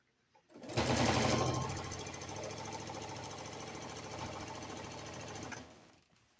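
Sewing machine stitching a quilt binding, a loud continuous rapid mechanical whir that starts abruptly, holds steady for about five seconds, then stops.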